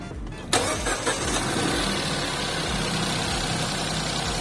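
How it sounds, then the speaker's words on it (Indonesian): Peugeot 2008 1.2-litre three-cylinder turbo engine cranks and fires after a short quiet moment, then settles into a steady, fairly loud idle that carries on alone to the end. "Engine start stop di bagian kiri sebelah sini, foot on the brake. Yuk kita start up dulu."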